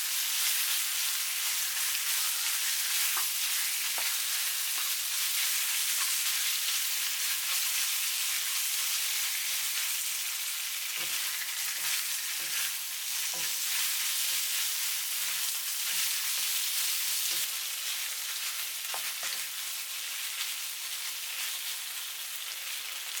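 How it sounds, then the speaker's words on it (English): Marinated beef stir-frying in a pan with golden garlic gives a steady, close sizzle, broken by scattered light clicks and scrapes from the spatula. No one speaks. "When they start to be golden, put the marinated beef. Stir for 2 minutes."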